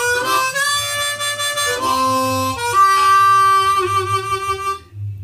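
A harmonica plays a single-note riff with a big, full tone and warm sustained notes, heard alone and close before it fades out at the end.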